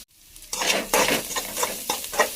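Onion frying with a freshly added spice paste for egg burji, a close, loud sizzle broken by repeated stirring scrapes of a spoon in the pan, with no talk.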